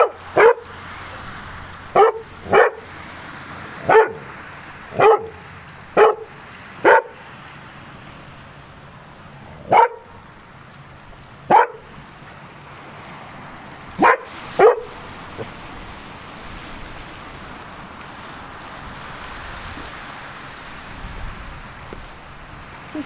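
About a dozen sharp, loud barks come in an uneven series, then stop; people voice them to imitate a dog in order to provoke a reaction from a dog named Shadow, and the rest is quiet room tone.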